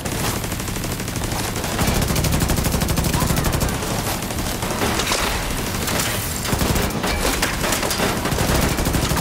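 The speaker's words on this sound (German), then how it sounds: "Mal wieder einer mit dieser großen Wumme. Mit der Gatling." Dense, sustained automatic gunfire from a Gatling gun in the video game The Division 2, a loud continuous rattling barrage running throughout with no pauses.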